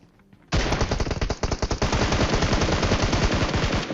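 Automatic gunfire from a battle royale game erupts abruptly in loud, rapid bursts that stay dense and continuous for several seconds.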